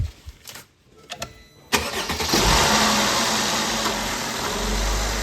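A car engine cranks and catches after a few quiet clicks and knocks. It then settles into a steady, loud idle that runs on to the end.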